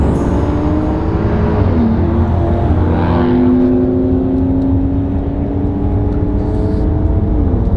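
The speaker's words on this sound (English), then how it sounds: "the Aston Martin being a V12 and the Maserati being a tuned V8, we thought it would be an interesting comparison with a rolling start" An Aston Martin Rapide V12 and a tuned Maserati V8 accelerate hard from a rolling start, a loud steady engine drone with rising pitch and wind roar throughout, heard up close from inside the car.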